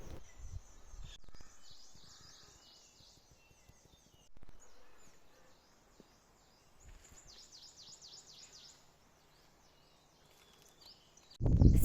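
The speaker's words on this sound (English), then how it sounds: "We woke up to the beautiful sounds of the birds chirping." Birdsong in the trees of Nathiagali, with repeated high chirps and calls in faint, scattered bursts over quiet leafy rustling, ending in a loud close thump.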